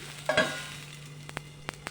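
A Navratri fasting thalipeeth is laid on a hot griddle with oil poured around it. A short burst of sizzle comes first, then a quieter frying hiss runs underneath with a few sharp spatters and pops.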